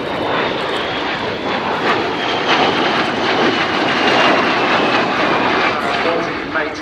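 A pair of de Havilland Vampire jets flies past in tight formation at the Dunsfold Air Show, a loud continuous roaring jet rumble with a faint high whine, while a commentator talks over it.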